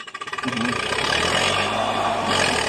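A D50A tractor pushing through a rubber tree plantation runs loud and close, its engine chugging in quick pulses at first and then settling into a dense, steady roar.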